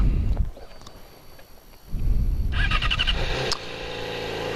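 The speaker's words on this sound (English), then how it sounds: "Okay, so the bike is on, as you can see and probably hear." A motorcycle is started and left idling in neutral: rumbling, low engine noise close by, rising as it fires, with a few sharp clicks and clacks mixed in, then settling into a steady idle.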